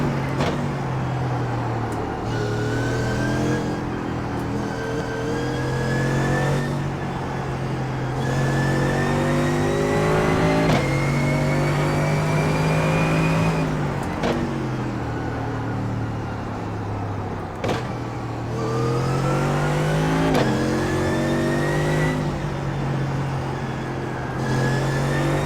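A Sam Maxwell SMV1 race car engine drones loudly and steadily through laps, its pitch climbing through each gear and dropping sharply at every shift, repeated over and over with no voices.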